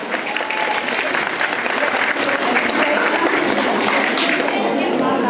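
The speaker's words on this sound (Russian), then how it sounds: "Аплодисменты нашим чемпионам." Sustained applause from an audience at an award ceremony for young champions, dense steady clapping filling the room with a hint of crowd murmur underneath, no break throughout.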